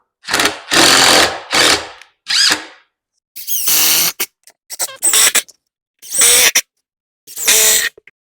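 A power drill drives screws into the wooden legs of a photo prop, loud close bursts of whirring motor in short stop-start runs separated by silences, the later bursts shorter as each screw tightens.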